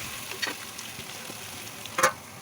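Chicken dropped into a hot pan of spiced masala, giving a soft steady sizzle with two brief clattering bursts as pieces land and are stirred, close and fairly quiet.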